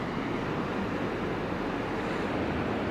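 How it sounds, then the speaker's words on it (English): Sea waves breaking on the coast of Portugal, a steady, even wash of surf like broadband white noise, continuous and moderately loud with no voices. "Listen to that sea. Doesn't it sound like white noise?"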